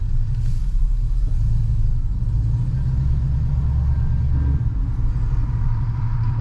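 A Sierra or Silverado pickup with a swapped 4L80e transmission pulling away at low revs, a steady deep engine rumble heard from inside, even and unbroken with no speech.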